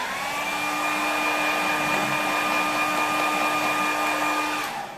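A hair dryer blows steadily and loudly for about five seconds while drying a corner of a watercolour landscape painting, with a constant whine over a broad rushing airflow before it cuts off near the end.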